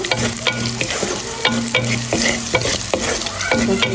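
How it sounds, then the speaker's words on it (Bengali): Steady sizzling of garlic frying golden in hot oil, with a spoon stirring and scraping the pan at regular intervals, close and loud. "ওইটাকে আর একটু ভাজা ভাজা করে নেব"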